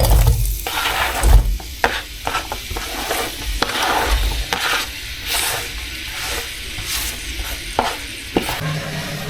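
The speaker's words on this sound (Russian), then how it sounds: "Сначала мы обжариваем лук до золотистой корочки." Plenty of salted onions fry in a pan toward a golden crust, a close, continuous sizzle broken by repeated stirring scrapes and clacks, with no talking.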